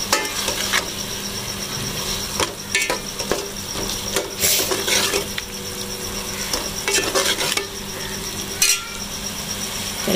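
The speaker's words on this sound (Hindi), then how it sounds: "ये देख रहे हैं जैसे कीमा भुना, मैंने आलू डाल दिए।" Beef keema frying with potatoes in a pan, steady sizzling broken by repeated clinks and scrapes of a spatula against the metal pan, close and fairly loud.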